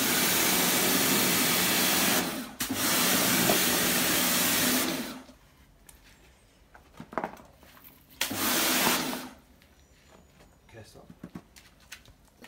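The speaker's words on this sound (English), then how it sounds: "Okay, now we're high pressure cleaning." A high-pressure washer spraying a KTM SX or Husqvarna 50cc motocross bike, loud hissing bursts of several seconds that cut off between sprays, close by, with someone talking in the quieter gaps.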